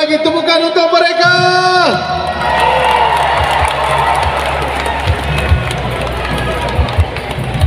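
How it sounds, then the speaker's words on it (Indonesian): Large crowd at a Malaysian political rally roars with cheering and clapping after a drawn-out voiced call, the noisy wash of applause and shouts continuing at full volume. "Sekali lagi tepukan untuk mereka."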